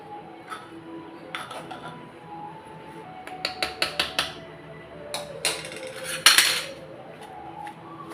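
Container of raw mango pickle being shaken, giving bursts of rattling and clinking, several quick knocks in a row and then one louder shake, close by with no talk.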